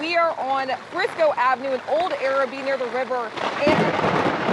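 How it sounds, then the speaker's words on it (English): Heavy rainstorm with thunder on Frisco Avenue in Old Araby near the river. A reporter talks over steady rain at first, then a loud, broad rumble of thunder swells in the last second. "you can hear the thunder right now"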